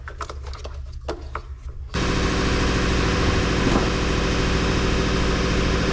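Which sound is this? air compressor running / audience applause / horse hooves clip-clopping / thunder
air compressor running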